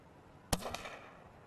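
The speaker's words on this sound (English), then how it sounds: "But even shooting blanks can't send the weak animal packing." A blank gunshot fired outdoors to scare off a weak moose: one sharp, loud crack followed by a brief echoing report, then quiet.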